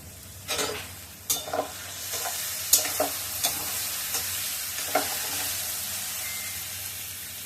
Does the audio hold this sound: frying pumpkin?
yes